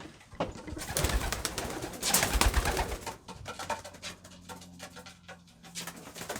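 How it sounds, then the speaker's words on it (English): Pigeons coo in low, soft, repeated calls, while busier rustling and clattering fills the first half before the cooing stands out more clearly. "Oh, that's a good looking bird right there."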